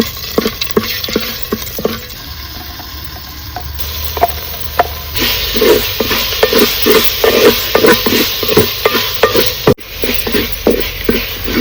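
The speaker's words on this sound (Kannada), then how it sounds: "ಒಗ್ಗರಣೆಯಲ್ಲಿ ಮಸಾಲೆ ಸ್ವಲ್ಪ ಹೊತ್ತು ಈ ರೀತಿ ಬೇಯಬೇಕು" Ground coconut masala fries in tempering oil with curry leaves and gives a sizzling hiss. Repeated rhythmic scraping of a spatula stirring the pan runs through it, close and fairly loud.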